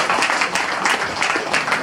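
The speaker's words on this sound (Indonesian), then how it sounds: "Sekali lagi tepuk tangan." Audience applause at a ceremony, a dense burst of many people clapping close and loud with a few sharper individual claps standing out.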